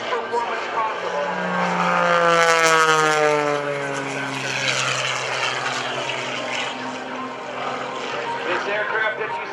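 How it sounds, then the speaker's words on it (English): The Oracle Challenger 3 aerobatic airplane flies at an Air National Guard open house airshow in Rhode Island, its loud propeller engine droning and sweeping in pitch as it passes, with an announcer talking over it. "Aircraft that you see Sean flying is known as the Oracle Challenger 3."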